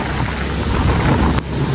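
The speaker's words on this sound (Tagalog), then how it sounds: "So malakas po ang ulan." Heavy rain with gusting wind during a storm, a dense steady roar with buffeting against the microphone, loud and close.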